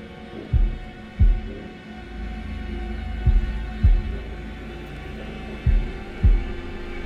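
Deep, booming heartbeat thuds during a tense quick-time event in Man of Medan, arriving in three evenly spaced double pulses over a low droning hum, loud and close.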